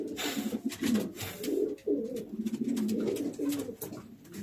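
Racing pigeons coo in a loft, a steady run of soft, throaty rolling coos repeating close by with no talk over them.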